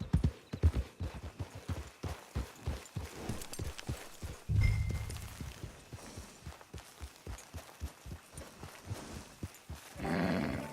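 A horse's hooves clip-clop steadily on the ground in the Red Dead Redemption 2 online game, a near, regular walking rhythm that runs the whole time, with a brief snort or whinny partway through and a rise of noise at the end.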